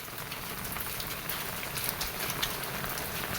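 Steady rainfall pattering on surfaces at a home, a soft continuous hiss of drops heard fairly quietly with no voices over it.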